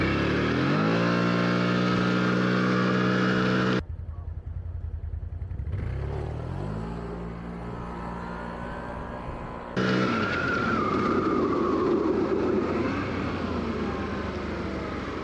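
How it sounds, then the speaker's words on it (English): A 2024 CFMoto CForce 1000 Touring ATV in sport mode accelerates hard at full throttle, its engine note climbing loudly and close, cutting off briefly before rising again through the run, with no talking. "We're just going to crack the throttle, see what happens."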